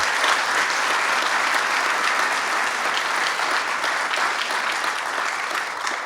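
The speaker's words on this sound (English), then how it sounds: "So let's give them a round of applause." Sustained applause from an audience at a legislation signing with Governor Cuomo, a dense, even wash of clapping that holds steady for several seconds and tapers slightly at the end.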